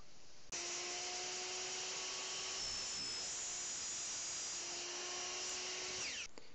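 A miter saw whines steadily through wooden molding for about six seconds, loud and close, with the blade spinning down at the end.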